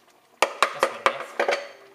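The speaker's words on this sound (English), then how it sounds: "From here, stir it right in." A spoon knocks against a pot while elderberries are stirred into oatmeal, giving about seven sharp clinks in a quick uneven rhythm at close range.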